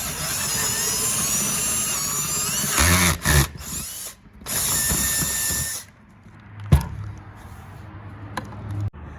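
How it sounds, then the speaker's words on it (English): A power drill bores an 11mm diameter hole, a steady high whir under load for several seconds, then stops and starts in short bursts with a few clunks before falling quiet. "we should be able to go right up to our 11mm diameter bit"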